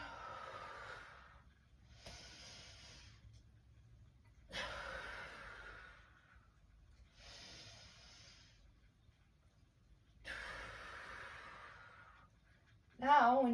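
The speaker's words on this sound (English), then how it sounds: "Inhale in, exhale out." Slow, deep breaths during a yoga breathing exercise: several long, audible inhale-exhale cycles of a few seconds each, close and clear, with quiet pauses between them.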